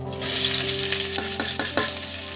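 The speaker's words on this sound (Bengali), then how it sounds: "এই পেঁয়াজগুলো আমি এর মধ্যে দিয়ে নিচ্ছি" Onions tipped into bitter gourd already frying in oil for a bitter gourd and potato dish: a steady, close sizzle broken by several sharp stirring scrapes, with no voices.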